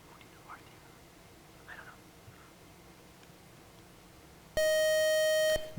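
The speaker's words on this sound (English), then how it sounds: "Buzzer got you as you deliberated there." A quiz show buzzer sounds once, a sudden loud electronic tone lasting about a second after quiet studio murmuring.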